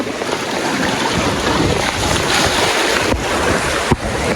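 Loud, continuous roar of strong, rough sea waves churning close by at Burias, mixed with gusty wind buffeting the microphone.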